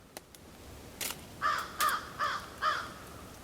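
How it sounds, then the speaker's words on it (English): A crow caws four times in a steady rhythm, clear and fairly close, after a couple of faint clicks and a brief rustle. "Hear the crows?"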